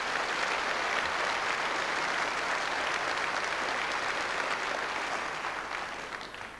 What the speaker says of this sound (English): Warm applause for her.